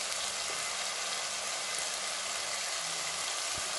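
Sliced onions and green chillies frying to golden brown in a pan for Rayalaseema gongura chicken, a faint, broad, steady hiss with barely any stirring, no voices.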